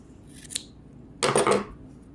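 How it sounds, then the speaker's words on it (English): Scissors snip through two pieces of yarn while a crochet ornament is finished: one quick small snip, then a louder, longer crisp cut a moment later, close and alone in a quiet room. "And I'm just going to cut them."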